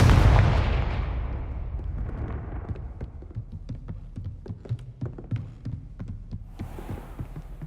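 A Confringo fire spell blasts in the Hogwarts Legacy video game with a heavy booming burst that decays into a low rumble, followed by a string of sharp, irregular crackling pops.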